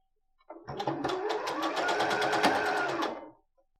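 A sewing machine stitches a leggings hem in the round, one steady run of rapid, even needle chatter lasting about three seconds, close and clear with no talk.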